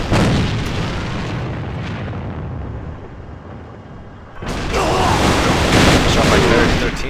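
Grenade blasts and gunfire boom in the AVA shooter game, with a loud low rumble fading out and then a second burst of dense explosive noise, and a commentator talking over it.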